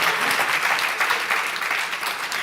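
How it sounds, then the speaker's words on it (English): An audience at a forum on displacement applauds, a dense, sustained burst of clapping from many hands that holds steady throughout. "So ladies, give us a round of applause"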